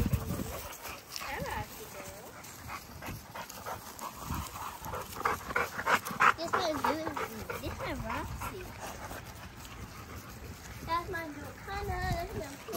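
A pit bull pants heavily and scuffles about, with paws scrabbling and rhythmic breathing close by, while people shout over the commotion.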